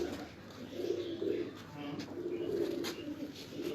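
Several pigeons coo on a rooftop in Islamabad, including black-marked Chinese pigeons, their low rolling calls repeating steadily at close range with faint background noise.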